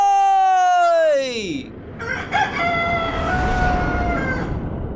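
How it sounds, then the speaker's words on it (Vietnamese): An animated rooster crows a long, loud, falling cock-a-doodle-doo up close, then further bird-like calls and busy sounds follow in a cartoon scene. "tiếng gáy của cậu nghe hay thật"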